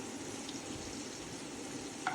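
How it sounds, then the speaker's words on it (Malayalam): Mustard seeds, curry leaves, dried chilli, fenugreek and garlic frying in oil for tomato chutney, a steady low sizzle with a faint crackle near the end, no talking. "കടുക് വറുക്കാനായിട്ട് കറിവേപ്പില, വാറ്റൽമുളക്, അല്പം ഉലുവ, വെളുത്തുള്ളി, ഇത്രയും സാധനം ചേർത്ത് നന്നായിട്ട് മൂപ്പിച്ചെടുക്കാം"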